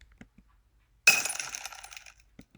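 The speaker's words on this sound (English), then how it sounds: "So let's see what the glass breaking sounds like." Glass shatters in a single sudden crash, followed by a spray of tinkling shards that fades over about a second, loud and close in an otherwise quiet space.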